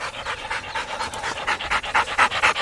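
A hunting dog on a hog hunt pants hard and fast, close by, a rapid rhythmic run of breathy huffs that grows louder toward the end, with no talk over it.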